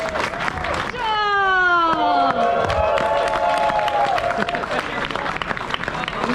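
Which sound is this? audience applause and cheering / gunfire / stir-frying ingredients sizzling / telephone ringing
audience applause and cheering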